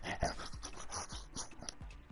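Pet dog panting hard while tugging at a teddy in play, quick rhythmic breaths close by with occasional soft whimpers, no talking over it.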